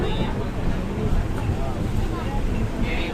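The Navajeevan Express, travelling from Ahmedabad to Chennai Central, rolls along with a loud, steady broadband rumble and rushing air inside the coach, and someone talks over it.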